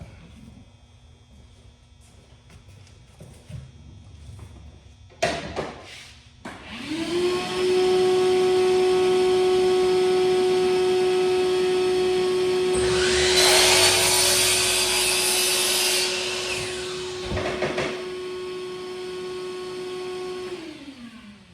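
A miter saw spins up loud and whines steadily as it cuts through a wooden board, with a brief rougher burst mid-cut before winding down, preceded by a few short clunks.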